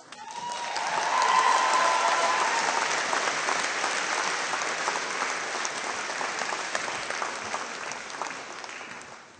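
A crowd at an Otago Polytechnic graduation ceremony in December 2014 applauds, with sustained dense clapping that swells early and then carries on steadily throughout.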